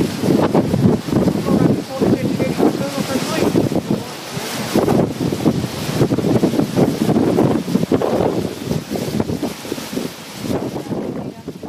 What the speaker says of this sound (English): Look at the wind. Yeah, it's a great storm.